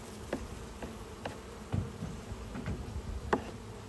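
Honey bees buzzing around open honeycomb while honey is pulled, a quiet steady drone with individual insects zipping close past the microphone several times.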